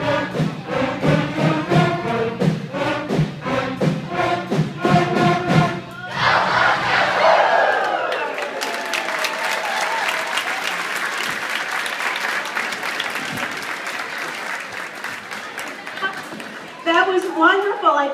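Parents, grandparents and siblings at an elementary school band concert cheer, whoop and applaud loudly for a sustained stretch in a crowded hall, with an adult voice speaking over the start.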